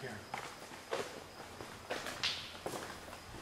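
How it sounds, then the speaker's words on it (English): Several scattered footsteps sound at irregular intervals on a farm at night, each one soft but distinct against a low background hiss. "Did you hear the footsteps and everything again?"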